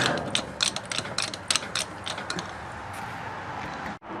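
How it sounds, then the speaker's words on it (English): A mechanical ratcheting from a jack raising the back of a tracked vehicle, with irregular clicking strokes close by, tapering off into a steadier mechanical noise. "Alright, so we're gonna jack the back up."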